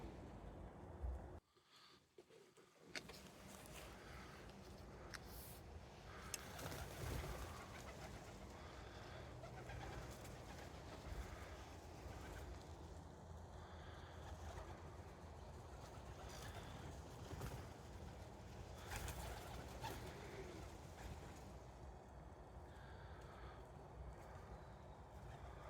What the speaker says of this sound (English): Got more pigeons coming in.